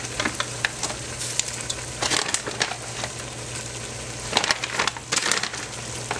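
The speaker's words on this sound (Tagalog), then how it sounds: "Lagyan naman natin yung ating seafood mix. Sabay na rin natin ang hipon." Seafood mix and shrimp frying with ground meat in a pan for pancit malabon: a steady sizzle broken by repeated scraping, clattering stirring strokes, close and loud, with no talk.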